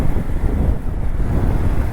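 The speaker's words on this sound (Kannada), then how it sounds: "ಹಾ ಗಾಳಿ ಬಿಡುತ್ತೆ ನೋಡಿ" Steady, loud wind blowing near the sea coast on a motorcycle ride in Odisha, a continuous low roar buffeting the microphone with no talk.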